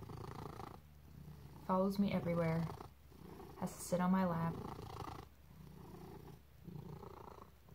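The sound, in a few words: cat purring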